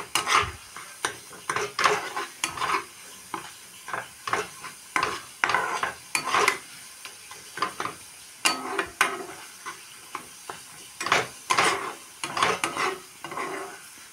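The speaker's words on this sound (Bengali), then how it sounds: "আমি এটাকে এখন ভাজা ভাজা করে নিচ্ছি, মশলাটাকে সব একসাথে ভাজা ভাজা করে নিচ্ছি সুন্দর করে" Spice paste being fried in a pan and stirred with repeated scraping strokes, which come as rhythmic bursts over a low sizzle, close and with no talking.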